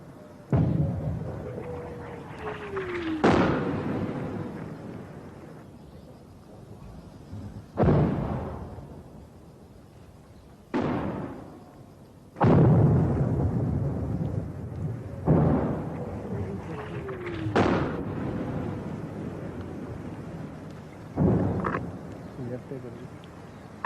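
Artillery fire and explosions from the 1971 Bangladesh war strike as a series of sharp, loud blasts every few seconds, each trailing into a rumbling decay, with voices heard between them.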